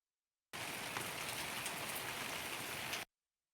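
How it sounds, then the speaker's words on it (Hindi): Heavy rain pouring down during a windy night storm, a dense, loud, steady hiss that starts abruptly and stops abruptly after about two and a half seconds, with no voices. "तेज बारिश है, हवा भी बहुत चली"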